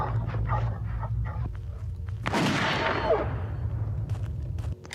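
A large dog barks and snarls amid game-like gunfire and a loud burst, with heavy low rumbling throughout.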